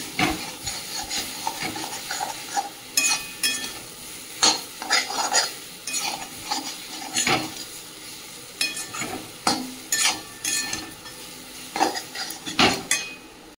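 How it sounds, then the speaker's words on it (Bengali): Potatoes sizzle in a pan while a spatula repeatedly scrapes and clanks against the metal in uneven bursts, close by. "ভালো করে ভেজে নিতে হবে"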